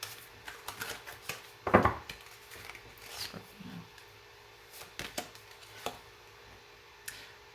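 Soft riffling and tapping of tarot cards being shuffled, with a sharper burst of flicking near the start and scattered light clicks afterward.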